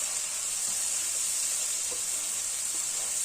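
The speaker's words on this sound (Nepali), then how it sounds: "अब अदुवा लसुनलाई चाहिँ फ्राई गर्नुपर्छ एकैछिन" Ginger garlic paste fries in a pan, giving a loud, steady sizzle that holds evenly throughout with no talking.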